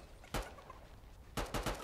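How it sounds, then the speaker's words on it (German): Turkeys gobble in the Fortnite video game, a short burst and then a quicker cluster of rough calls, fairly faint and heard alone over quiet game ambience. "Das sind Truthähne."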